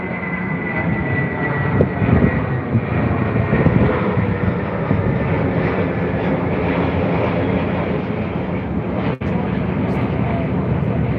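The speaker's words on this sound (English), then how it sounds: "Boeing 777. Very nice. Boeing 777." A China Eastern Boeing 777 airliner at Heathrow produces a loud, continuous jet engine roar that holds steady throughout, with faint voices underneath.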